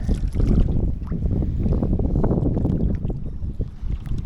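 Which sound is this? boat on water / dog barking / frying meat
boat on water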